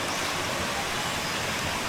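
Hagimit Falls on Samal Island pours in a steady, dense rush of falling water, a close and unbroken hiss without voices.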